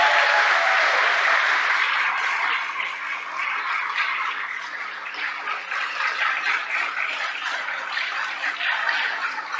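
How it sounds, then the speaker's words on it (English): An audience bursts into loud applause at a public announcement about pandemic restrictions being lifted, a dense wash of clapping that starts strong and gradually thins and fades. "Give yourselves a round of applause."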